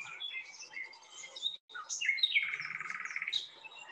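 Birdsong in a forest: several bright chirps and trills from more than one bird, with a sustained buzzy warbling phrase in the second half, fairly clear and close against a quiet background.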